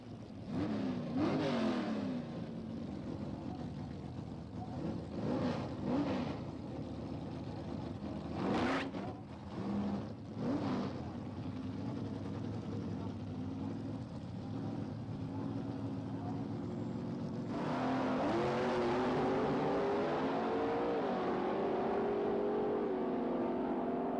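Loud drag racing engines roar and rev as cars accelerate in pairs down the strip at Santa Pod in 1986, rising in pitch, with a sustained engine drone building near the end.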